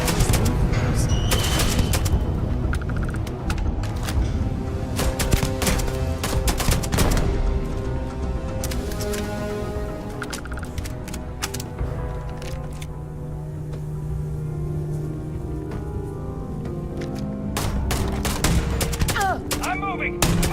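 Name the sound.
gunfire in a firefight in the video game Starfield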